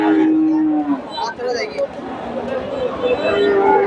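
Friesian heifers low repeatedly at a cattle market in Bogura, Bangladesh, several loud, drawn-out moos close by over a murmur of people talking in the background.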